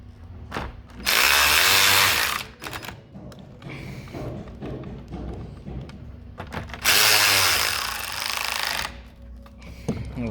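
Power driver spinning out Torx 20 bolts from the back-up camera of a 2010-2014 Chrysler Town & Country, two loud whirring bursts of about two seconds each with quieter handling sounds between.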